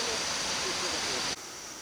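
Steady broadband rush of the Kuang Si waterfall in Laos, heard from partway up the falls, loud and continuous before dropping abruptly to a softer level near the end.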